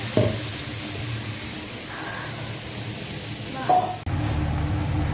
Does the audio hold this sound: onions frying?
yes